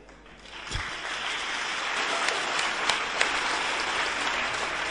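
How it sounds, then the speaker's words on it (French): A congregation at a Catholic gathering breaks into applause, the clapping rising quickly after a sharp start and holding as a dense, even roar of hands for several seconds. "Pendant que vous vous applaudissez"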